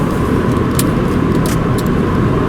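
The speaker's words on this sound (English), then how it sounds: "Wee bit of wind noise." Inside a Subaru Forester Sport at highway speed, a steady broad roar of wind and road noise fills the cabin, with a few faint hissy flutters over it and no voices.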